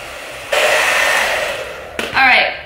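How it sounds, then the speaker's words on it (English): A hair dryer set to hot and high speed switches on and blows with a steady loud whoosh, then a brief rise in airflow pitch near the end as it runs at full power. "I'm pretty sure the hair dryer has to be put on hot and on high speed."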